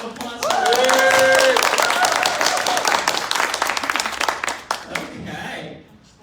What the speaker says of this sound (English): Everyone give another round of applause for that.